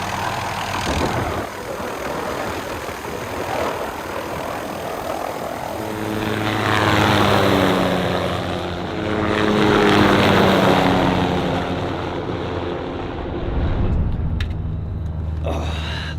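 An MD helicopter flies over a desert landscape with cactuses, its rotor and engine drone steady and loud throughout, swelling and fading slightly as it passes, with no talking.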